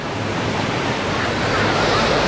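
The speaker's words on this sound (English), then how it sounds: "Looks like artificial waves." Steady broadband rush of artificial waves churning in a water park wave pool, loud and continuous and growing slightly stronger toward the end.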